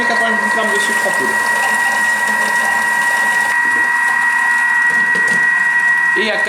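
A Thermomix machine whisks egg whites with sugar for macarons, giving a steady mechanical whirring hum with a constant tone, while a person talks softly over it.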